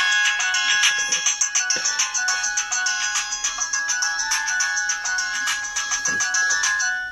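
A bright, melodic phone ringtone plays loudly and continuously, its quick repeating notes pulsing in a steady rhythm.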